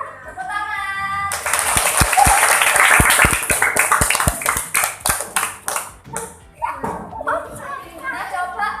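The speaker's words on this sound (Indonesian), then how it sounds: "Tepuk tangan." Children in a classroom burst into a round of clapping, dense and lively at first, then thinning into scattered claps as young voices chatter and an adult speaks over them.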